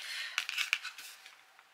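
Scissors cut while a notebook craft kit is being assembled, giving a few quiet, crisp snips in quick succession that fade into soft rustling.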